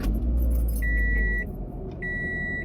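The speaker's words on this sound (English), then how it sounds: "I'm gonna wait till my car stops beeping." Car beeping in a steady tone, two sustained electronic beeps with a pause between, over a low rumbling background, fairly close and clear.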